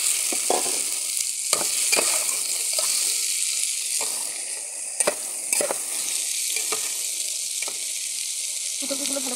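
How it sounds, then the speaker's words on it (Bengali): Cauliflower florets stir-fried in a pan with fried onion, garlic, salt and turmeric for a pabda fish broth: continuous close sizzling, with repeated sharp scrapes and clacks of a spoon stirring against the pan. "ফুলকপিগুলো ভালো করে কষিয়ে নেব।"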